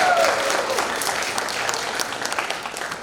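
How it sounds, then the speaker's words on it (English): Applause from an audience at a 2024 school program project showcase, a dense steady clatter of many hands clapping that stays strong throughout without fading. "can we give one more round of applause to"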